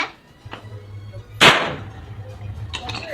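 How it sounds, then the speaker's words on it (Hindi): One sharp, loud firecracker bang for Diwali cracks out near the middle and trails off with a brief hiss, set against a steady low hum and a few faint snaps. "दिवाली में पटाखा भी फोड़ने का हो जाएगा"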